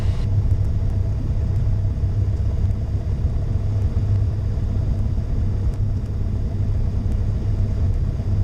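Light aircraft engine rumbling steadily at low RPM while taxiing at Bartow airport, a continuous near, loud drone with no voices.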